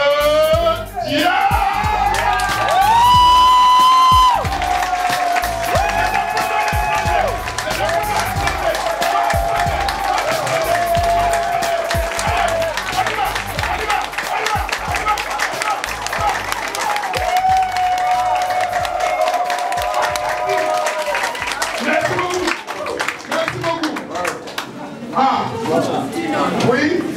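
At the arrival of a president of TIENS Afrique in Abidjan, a large crowd applauds and cheers with sustained clapping and whoops. Loud music plays throughout, and amplified speech comes through over the noise.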